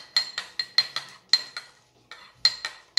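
A spoon clinks rhythmically against a cup while stirring honey and Intra capsule drink, about a dozen sharp close metallic taps in a steady pattern with brief pauses, no talking.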